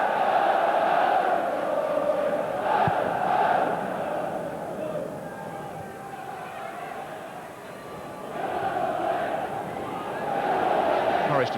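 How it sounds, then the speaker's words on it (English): Football crowd at a Nottingham Forest v Lyon UEFA Cup tie in 1995, a large stadium mass of chanting and roaring that swells and dips, continuous and far-reaching, heard under the general din. "Crowd here trying to lift them."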